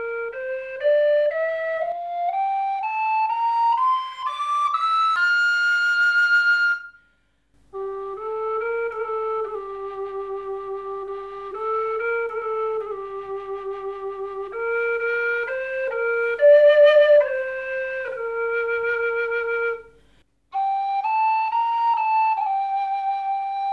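A Ukrainian wooden sopilka flute plays a clear solo melody, sweeping upward through a run of notes, pausing, then continuing with lower sustained tones and a brief break near the end, with no voices.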